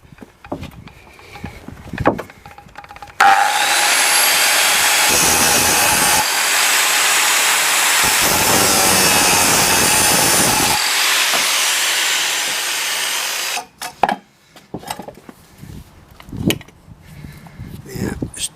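Mercedes 410D propshaft clamped in a vise outdoors on grass, cut with a power tool: a loud continuous ten-second harsh cutting whine starting abruptly and cutting off, with brief tool bursts and clatter before and after.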